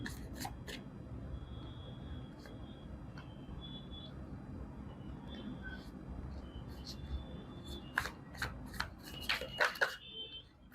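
Tarot cards are shuffled quietly close by, a soft steady riffling that turns into several sharper snaps and flicks toward the end, with no voices.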